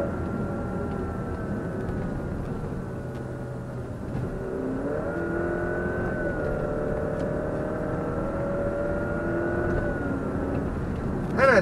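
Alfa Romeo Stelvio SUV engine accelerating from inside the cabin, a moderate rising drone with shifting pitch as revs climb and settle, steady road noise underneath and a sharp rise at the very end.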